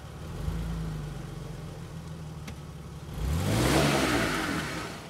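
A Maverick X3 side-by-side engine revs wide open while towing a stuck Jeep, holding a steady drone before surging louder and higher in the last seconds, close and continuous with no talk.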